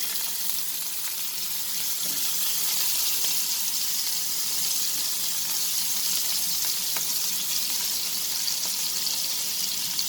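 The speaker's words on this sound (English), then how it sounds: "in the same karai I have just left 1 tablespoon of oil, and I will add these chopped garlic in it" Chopped garlic fries in a tablespoon of oil in a karai, producing a steady, even, close hissing sizzle that carries on without a break and without any voices.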